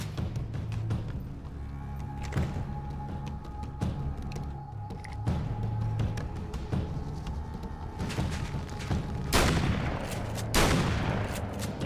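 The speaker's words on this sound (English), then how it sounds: "look at how many I shoot. It's almost like a submachine gun." Shots from a gun in Alan Wake's American Nightmare land as a handful of sharp reports spread across the stretch over a continuous background hum, with a louder pair of blasts near the end.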